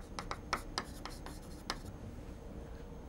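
Writing during a lecture: a quick series of faint scratchy strokes, several in the first two seconds, then a quiet steady room hum.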